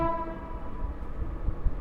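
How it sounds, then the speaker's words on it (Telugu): A goods train passes through the new Cherlapalli terminal railway station, heard as a steady low rumble with a sustained horn-like tone. The clip is brief and has no talk. "గూడ్స్ ట్రైన్ పోతాం చూడండి."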